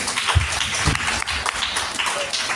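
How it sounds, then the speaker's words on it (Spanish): Applause for children at a tribute event honoring a writer, heard as a dense wash of clapping from an audience with a few sharper close claps standing out, steady throughout. "Un fuerte aplauso para los niños."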